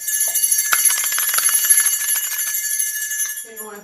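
A bell rings out as a radio alert sound effect, bright and sustained with shimmering repeated strikes, loud and alone, fading at the end as a voice begins.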